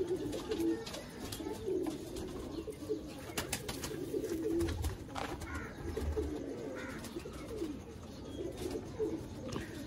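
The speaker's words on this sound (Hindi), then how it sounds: "जो आपको दिखा रहे हैं सभी बटेरे कबूतर हैं" Sialkoti pigeons coo softly in a continuous murmur of low, rolling calls, with occasional wing flutters and faint chirps in the background.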